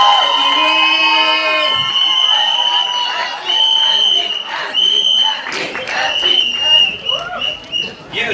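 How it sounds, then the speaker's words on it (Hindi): A crowd at a film trailer launch for Fukrey 3 claps and cheers loudly, with whoops and shouts over dense applause, while a voice talks over the noise. "कैन वी प्लीज बजाओ ताली?"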